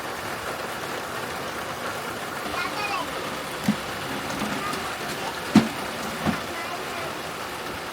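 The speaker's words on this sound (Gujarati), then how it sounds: "તો એકદમ વરસાદ ચાલુ થઈ ગયો છે" Heavy monsoon rain pours down in a steady, dense hiss, with a few sharp knocks standing out near the end.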